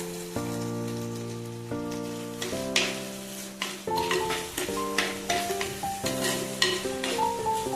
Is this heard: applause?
no